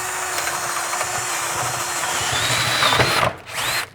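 A power drill fitted with a concrete bit whines steadily and loudly up close, with a brief dip in speed near the end before it spins up again.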